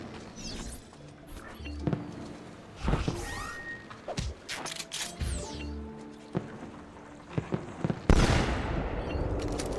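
Fireworks-like hand weapon firing in Assassin's Creed II, a scattered series of sharp crackling bursts and pops at irregular intervals, with a louder hissing spray near the end.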